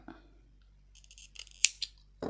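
Scissors snip through yarn on a crocheted Halloween pumpkin amigurumi, with a few soft preparatory rustles followed by two crisp, close metallic cuts in a quiet room.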